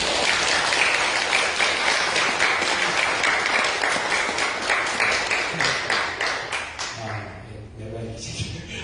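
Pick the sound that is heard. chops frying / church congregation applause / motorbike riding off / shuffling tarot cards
church congregation applause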